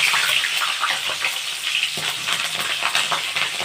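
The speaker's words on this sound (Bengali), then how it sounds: "কাঁচা লঙ্কা দিচ্ছি 8 থেকে 10টা চেরা" Slit green chillies dropped into hot mustard oil tempered with nigella seeds give a loud, dense, continuous sizzle and crackle, close up, with a brief extra burst midway and no voices.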